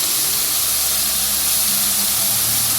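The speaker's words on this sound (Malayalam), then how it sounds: "അപ്പോൾ പനീർ പീസസ് നമുക്ക് ഇതിലോട്ട് ഇട്ടിട്ട് ഫ്രൈ ചെയ്തെടുക്കാം." Paneer pieces frying in sunflower oil on medium flame, a loud steady hissing sizzle filling the whole stretch without a break, close to the pan.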